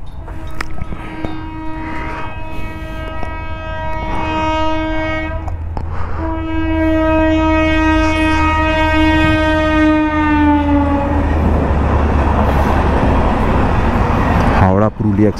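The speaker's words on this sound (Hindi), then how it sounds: "ये ट्रेन आ रही है।" The Howrah Purulia Express sounds its horn loudly and nearby in long sustained blasts. It then rumbles past with a broad, heavy roar of wheels and carriages.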